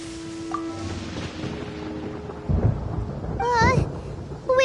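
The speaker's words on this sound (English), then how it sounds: "Paimon hears thunder!" Thunder in the video game Genshin Impact: a deep, heavy rumble rolls in midway and swells, with a character's voice briefly heard alongside.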